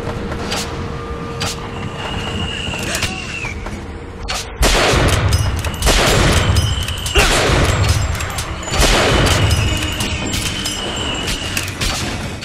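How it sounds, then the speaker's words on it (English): Enemy gunfire from above in BioShock Infinite: repeated loud bursts of shots and blasts at close range, coming in several volleys over a constant rumble of combat noise. "There's seriously a dude up here shooting at me?"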